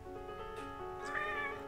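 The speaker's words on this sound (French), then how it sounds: "je n'avais pas vu ce petit chat" Small kitten meowing indoors, two short plaintive mews close by over a faint background hum, with no talk.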